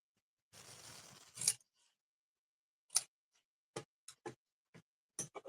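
Scissors cutting through cardstock while making a greeting card: one longer rasping cut, then a series of short, sharp snips spaced apart, close and quiet in an otherwise silent room.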